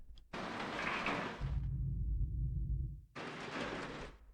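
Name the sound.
layered elevator sound effects from Industry and Construction library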